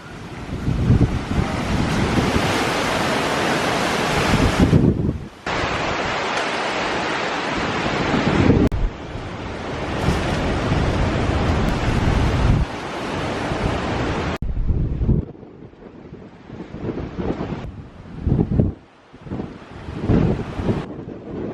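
Strong hurricane wind roars against the microphone with surf crashing at North Myrtle Beach, loud and continuous with brief drops and gusting surges toward the end.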